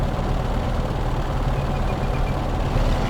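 The right engine of a P-38 Lightning in Microsoft Flight Simulator runs just after starting, giving a steady, loud, low rumbling drone that holds even throughout with no talking.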